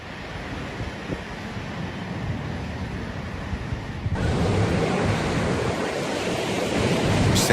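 Large waves crash against the coast at San Sebastian, Spain, in a steady loud roar of surf with wind noise, growing heavier and louder partway through, with no talking.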